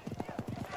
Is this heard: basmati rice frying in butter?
no